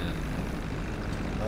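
Airplane engine drone in GTA V during a Cayo Perico heist flight, a loud, steady low rumble throughout the short stretch.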